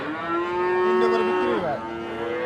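A calf at a cattle market gives one long, close, loud moo that bends in pitch near its end, heard alone.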